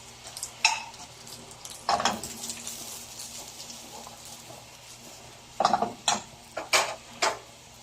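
Chayote and carrots tossed and stirred in a hot frying pan for pancit bato with cream sauce, with scraping bursts near the start and a cluster of quick stirring clatters toward the end over a quiet, steady sizzle.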